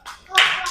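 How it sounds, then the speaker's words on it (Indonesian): A brief burst of clapping from a group of people in a classroom presentation session, rising quickly and holding steady, close by and fairly loud. "Silakan tepuk tangan untuk kelompok 2."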